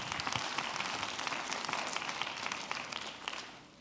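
Audience applause at a leadership conference concert, a dense, steady wash of many hands clapping close by that holds for several seconds and eases slightly toward the end.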